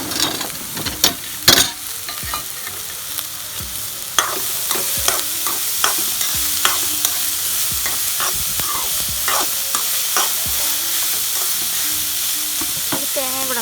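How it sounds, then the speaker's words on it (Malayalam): Beetroot, onion, green chilli, curry leaves and carrot stir-fried in a pan, with steady sizzling and repeated scraping, clattering strokes of a spoon or spatula throughout, close and fairly loud, with no talking. "ഇനി നമുക്ക് അരിഞ്ഞു വെച്ചിരിക്കുന്ന ബീറ്റ്റൂട്ട്, സവാള, പച്ചമുളക്, കറിവേപ്പില എല്ലാം കൂടെ ഒന്ന് ഇട്ട് കൊടുക്കാം."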